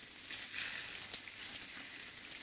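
Eggplant fries in oil in a pan, sizzling and crackling steadily, a soft continuous hiss with small pops, no voices.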